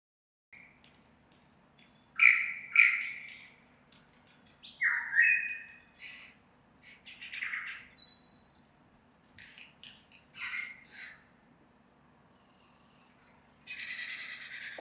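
A lyrebird sings and mimics other sounds in the wild, giving bursts of varied calls, squawks and chirps at moderate distance with short pauses between phrases, ending in a brighter twittering run.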